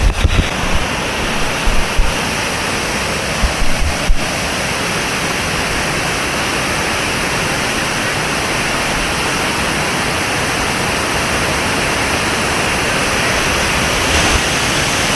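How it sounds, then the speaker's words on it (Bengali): A powerful waterfall, running fast after rain, roars in a dense, unbroken rush of water, loud and close, with a few faint knocks near the start, in Kaptai, Rangamati. "ঝর্ণাটাও আজকে অনেক সুন্দর লাগতেছে অনেক স্পিডে পানি পড়তেছে"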